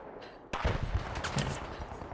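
Gunfire in the online shooter game The Finals, starting abruptly after a quiet moment and continuing as a dense, rapid burst of shots through the rest of the clip, loud and close with no talk over it.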